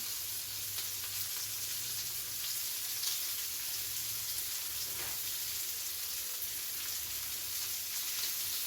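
Lamb loin chops searing in a hot pan, giving a steady, even sizzle and fry hiss that runs unbroken and fairly quiet, with no talking.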